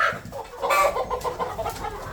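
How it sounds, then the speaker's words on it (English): Hens clucking inside a chicken coop, several birds at once in an agitated, irregular chorus of short clucks and squawks, fairly close and moderately loud, with no talking. "there are 4 or 5 hens from before, and they're bullying all of the other hens"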